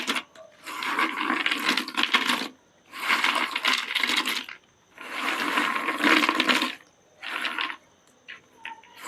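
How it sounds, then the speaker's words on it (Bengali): Crispy fried nimki snacks crunching and rustling in four loud bursts separated by short pauses, close and alone with no talk, ending in a few small crackles. "নিমকিগুলো দেখেন একেবারে খাস্তার মুচমুচে হয়েছে আওয়াজ শুনে বুঝতে পারছে"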